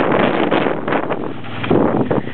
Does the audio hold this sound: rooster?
no